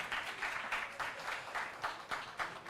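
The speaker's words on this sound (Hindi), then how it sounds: "तो फिर तालियां जोरदार क्यों नहीं बज रही?" Audience applause at a live astrology conclave event, a fairly faint, steady patter of clapping hands from a seated crowd, pulsing in uneven waves without voices.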